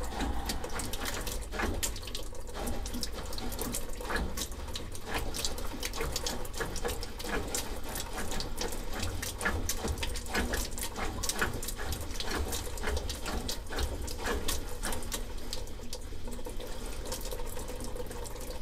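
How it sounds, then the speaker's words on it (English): Water runs from a tap feeding a washing machine, sputtering and hissing as trapped air is flushed from the supply lines, a steady, fairly close rush continuing for nearly twenty seconds. "I'm getting a better water flow now, but it's still trying to flush out all that air out of the lines."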